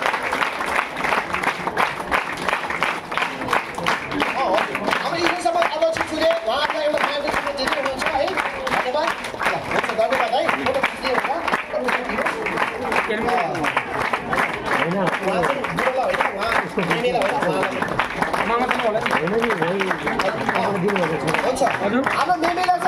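A church audience at a revival conference claps steadily in sustained applause to welcome guests, dense and continuous throughout with crowd murmur mixed in.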